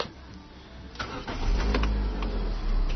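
A warm Peugeot 1007 engine running on LPG starts quickly: a short cranking whir catches and settles into a steady close idle.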